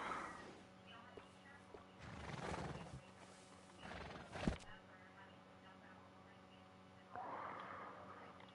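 A horse in a video game whinnies and snorts in a few short bursts, with hooves clopping, over a quiet, steady electronic hum.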